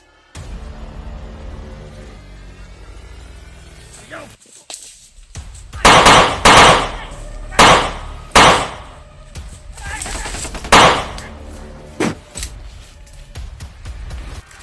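Several sharp, loud gunshots in a survival video game ring out in a rapid cluster after a quieter stretch, followed by a few more scattered shots, with players talking in between.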